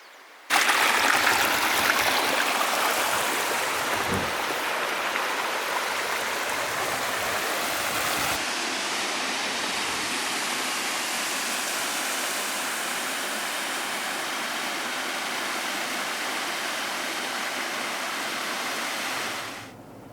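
Waterfalls near Salalah, Oman, pour in a loud, steady rushing roar that holds constant for about twenty seconds, with a brief quieter moment near the start before the full wash of water takes over.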